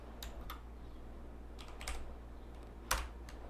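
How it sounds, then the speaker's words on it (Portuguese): A computer keyboard during spreadsheet work, with a few scattered key presses and one sharper, louder keystroke near the end, close and clear over low background hum. "Dei um Enter para descer para a próxima linha."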